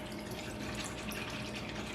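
Cold water running from a kitchen tap into a container while gravy is being made, a steady, quiet splashing rush with no talk.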